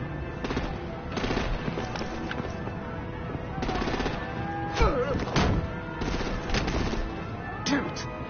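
Artillery and gunfire in a battle where vehicles are being disabled, steady bursts of rapid shots with heavier thuds, loud and continuous, with voices shouting over it.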